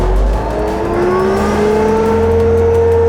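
A Bobcat loader carrying a flail cutter attachment, its engine droning loudly and steadily and climbing in pitch as the RPM is raised, a continuous mechanical hum throughout.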